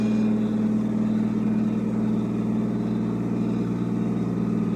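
A vehicle used by window cleaners to clean the glass outside a building runs with a steady, loud engine drone and a deep constant hum, unbroken and close throughout.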